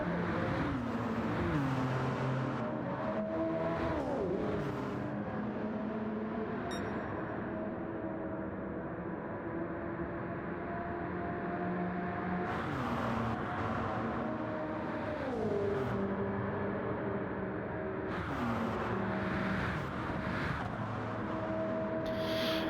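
Race cars in a racing video game roar down a straightaway at LeMans, engines whining and shifting through gears in steady overlapping layers, loud and continuous with no talk.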